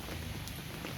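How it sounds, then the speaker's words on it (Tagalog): Light drizzle falls at Manila Memorial Park cemetery in Sucat, Parañaque, a soft, steady, even hiss of fine rain patter, faint and continuous, with no voices. "Medyo maulan-ulan dito ngayon sa Manila Memorial Park"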